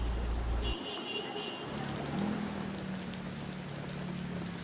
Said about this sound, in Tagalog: sa mga oras naman na ito ay tuloy-tuloy pa rin yung nararanasan natin na pag-ulan dito sa Espanya, sa Maynila